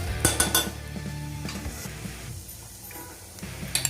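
Metal spoon clinking and scraping against a pan while fried dry fruits are tossed with salt for a Kashmiri pulao, a few sharp clinks early, then quieter scraping, close up with no talk.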